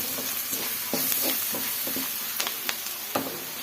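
Sheep blood fry with pepper being stirred in a pan, a steady sizzle of frying under repeated scraping and stirring strokes, close and moderately loud, with no voices.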